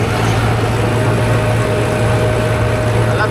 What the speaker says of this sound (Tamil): ரீப்பர் டிராக்டர் ஒன்று போகிறதா இருக்கும்.